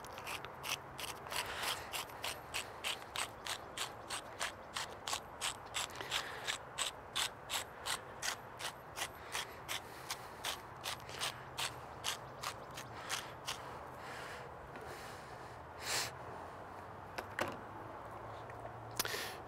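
Hand grinder turned over a seasoning prep while cooking a smoked rotisserie chicken on a Komodo Kamado 32-inch grill: quiet, evenly paced ratcheting clicks repeating for about fifteen seconds, then a few isolated knocks.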